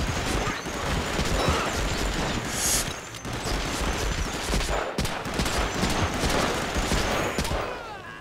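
Sustained machine gun fire and surrounding gunfire roar loud and near for several seconds, with rapid rattling shots, a few sharper cracks and brief dips in intensity.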